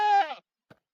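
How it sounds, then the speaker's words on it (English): A Minecraft goat lets out a single short, nasal bleat, close and clear, followed by a brief faint blip and then silence. "up here we have my goats. They're pretty cute."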